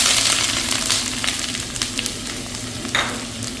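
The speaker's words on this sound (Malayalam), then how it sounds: "പാന് വെളിച്ചെണ്ണ ഒഴിച്ചിട്ടുണ്ട്, ചൂടായിട്ടുണ്ട്. നമ്മളതിലേക്ക് നമ്മൾ എടുത്ത് വെച്ചാൽ ഞാൻ 3 സവാളയാണ് എടുത്ത് വെച്ചിരിക്കുന്നത്" Three sliced onions hiss and sizzle steadily in a pan of hot coconut oil, with a loud, continuous crackle and small pops throughout and no talking.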